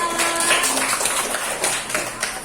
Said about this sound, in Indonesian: Tepuk tangan juga untuk Saskia